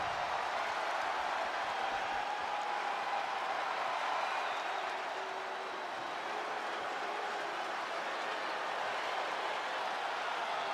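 A steady, loud crowd roar fills a wrestling arena in the video game WWE 2K25 as a women's division superstar makes her entrance, continuous and dense, with no break for the whole stretch.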